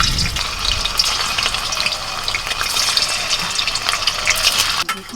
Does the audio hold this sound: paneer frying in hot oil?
yes